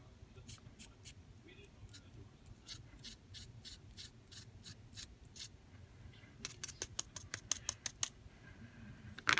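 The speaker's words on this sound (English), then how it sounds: "I have a little paintbrush here that I'm going to use to really make sure I get any excess off this." A small paintbrush sweeps excess glitter off a craft dress embellishment in short, repeated bristly strokes, close and fairly quiet, the strokes quickening toward the end.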